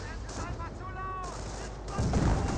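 Mortar blasts and small-arms gunfire from the Company of Heroes real-time strategy game, a dense run of crackling shots that swells into heavier booms near the end, with a commentator talking over the battle.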